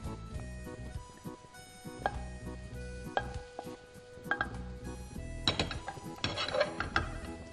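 Soaked soya chunks stirred in a pan, with a utensil clinking and scraping against the metal in irregular knocks that grow busier toward the end, close and fairly clear.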